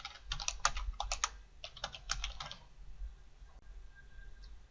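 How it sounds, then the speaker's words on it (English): Brisk typing of search terms on a computer keyboard into a legal research database; two quick bursts of crisp key clicks over a low hum, then quiet, with no talking. "Type those words in the About box."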